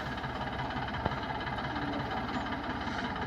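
A Sonalika tractor engine runs steadily nearby, a continuous mid-low idling drone with a faint rhythmic knock and one brief sharp tick partway through; no one talks.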